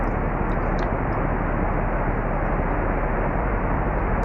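A light aircraft flies a tight landing circuit near a golf course, its engine a loud, constant broadband drone heard from inside the cockpit, steady throughout with faint clicks above.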